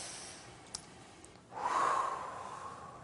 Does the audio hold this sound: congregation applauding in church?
no